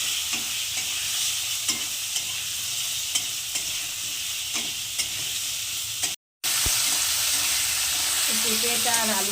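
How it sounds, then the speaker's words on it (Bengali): Papaya and potato pieces fry and sizzle in oil in a pan for Bengali shukto, with steady hissing and occasional stirring clinks, close and continuous; a brief dropout near the end, then faint talk. "পেঁপেটা আর আলুটা 2 মিনিট আমি ভেজে নিয়েছি।"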